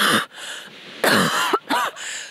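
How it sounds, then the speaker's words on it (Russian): A few dry, harsh coughs come in separate bursts with short pauses between them, close and fairly loud, with a throat-clearing sound among them. "Сухой изнуряющий кашель"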